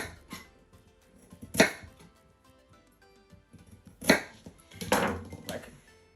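A knife chopping a carrot on a cutting board, a few separate sharp chops spaced irregularly with quiet handling sounds between them, close and clear with no talking.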